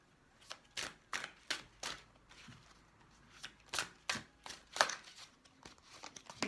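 A deck of tarot cards is shuffled close by in a series of crisp riffling bursts, about a dozen in quick rhythm, with no voices.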